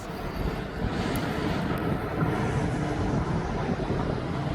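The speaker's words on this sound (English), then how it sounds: "It's a Boeing 737 MAX 8." A Ryanair Boeing 737 MAX 8 departing East Midlands Airport for Rhodes produces a loud, continuous roaring jet engine rumble with a broad hiss, steady and close throughout.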